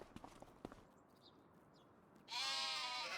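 A sheep in a modded pasture in Farming Simulator 25 gives one loud, wavering bleat near the end, after a few soft clip-clop footsteps against a quiet outdoor background.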